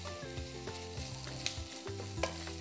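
Squid sizzling in hot oil in a frying pan, a steady close crackle with a few louder pops and faint stirring, set against quiet background music and no voices.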